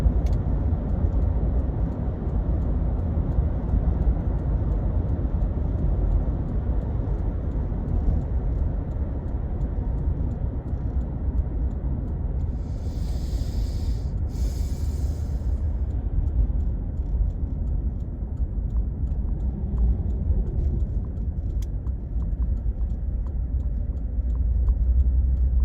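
A car cruising on a drive home, a steady low engine and road rumble inside the cabin, continuous and even throughout with no speech.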